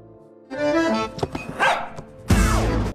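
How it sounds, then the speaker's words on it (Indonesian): A dog barks in a scene from the Indian film 777 Charlie: a run of several sharp, close barks and yips with short gaps, ending in a louder burst. "Anjing itu selalu menggonggong di malam hari dan Dharma tidak bisa tidur dengan nyenyak."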